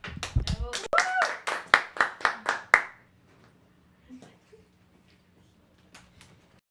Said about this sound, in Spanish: La recibimos también con un fuerte aplauso.